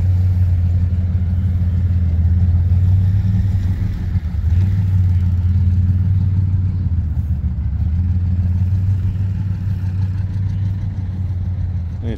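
An Allis-Chalmers M crawler tractor runs at a steam show, its engine holding a steady, loud low rumble close by with slight shifts in throttle throughout.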